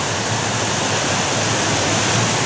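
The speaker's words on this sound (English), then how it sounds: "And I'm crossing back over the River Wear again." The River Wear flowing in Weardale, a loud, dense, steady rush of water close by, with no voices.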